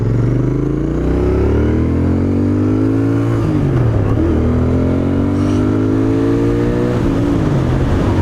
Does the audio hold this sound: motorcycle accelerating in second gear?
yes